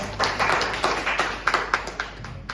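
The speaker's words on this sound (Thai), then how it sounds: "ปรบมือให้กับโอปอครับ" A church congregation claps for a performer during a Sunday service, a steady patter of many hands lasting a few seconds at moderate loudness with no talking over it.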